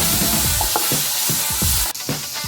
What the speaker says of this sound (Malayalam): തക്കാളി ഇട്ട് നന്നായിട്ട് വഴറ്റാം